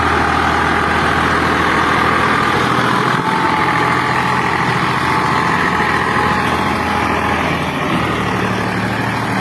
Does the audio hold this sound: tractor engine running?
yes